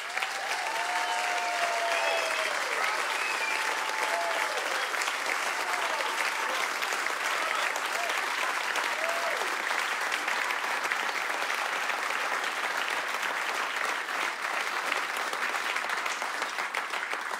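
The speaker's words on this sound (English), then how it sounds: "Please put your hands together. Give them a real, real cockpit round of applause." Sustained audience applause fills a jazz festival concert hall in London, dense and steady throughout, with occasional whoops and cheers rising above the clapping.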